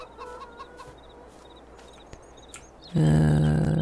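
Hens in a Farming Simulator 22 coop give soft, scattered clucks over a low ambient bed, and a louder steady tonal sound cuts in near the end.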